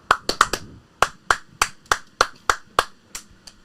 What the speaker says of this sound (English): Yeah, 2 claps real quick. 2 claps ready.